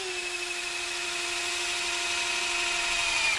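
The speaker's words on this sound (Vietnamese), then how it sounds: "Đây mình sẽ khoan cho anh em xem." Worx cordless drill spinning steadily at around 900 rpm, a close, loud, continuous high whine with a constant pitch that holds for several seconds without pause or speech.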